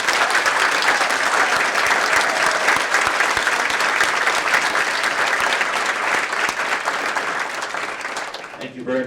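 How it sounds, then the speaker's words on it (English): An awards ceremony audience gives sustained, loud, dense applause for honorees at a women's achievement event, holding steady before tapering slightly at the very end. "Let's give them all a round of applause."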